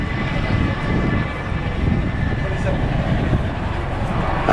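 An RAF 27 Squadron Chinook helicopter lifts off on the far side of the airfield at the East Fortune airshow, a steady broadband engine and rotor roar throughout, distant but loud and continuous.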